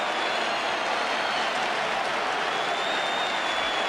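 Cricket crowd at the close of a 50-over New Zealand innings, a steady dense roar of voices and booing mixed with some clapping, loud and continuous with no pauses.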